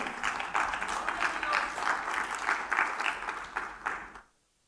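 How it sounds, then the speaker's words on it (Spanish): A church congregation claps in a rhythmic, pulsing pattern, fairly close and moderately loud, ending abruptly into silence. "¿Cuánto le dan palmas al Señor?"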